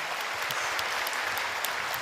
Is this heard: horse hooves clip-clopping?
no